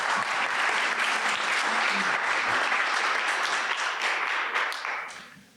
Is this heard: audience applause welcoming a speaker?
yes